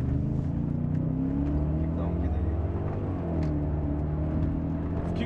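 A BMW E39 540i's V8 pulls in first gear with a low, steady engine drone that rises gradually, heard from inside the car while someone talks over it.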